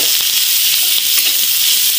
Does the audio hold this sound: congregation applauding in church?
no